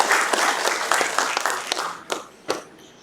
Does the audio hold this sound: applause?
yes